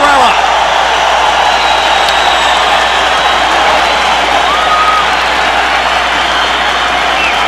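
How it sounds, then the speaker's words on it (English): A packed boxing arena crowd on its feet at the 2000 Barrera versus Morales fight, roaring with sustained applause and cheering in a dense, loud, continuous wash, with occasional whistles rising above it. "the entire crowd is on its feet in appreciation for what they saw in round 5"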